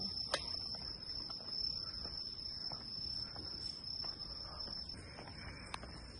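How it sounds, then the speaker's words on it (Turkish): Crickets chirp in a constant high-pitched trill on a quiet night street in Kanazawa, Japan, with a few faint clicks and rustles scattered through. "Sadece cırcır böceklerinin seslerini duyarak bu tatlı sokaklarda yürümek bize iyi geldi sanki."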